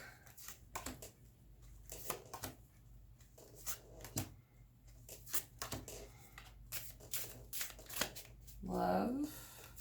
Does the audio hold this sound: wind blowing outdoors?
no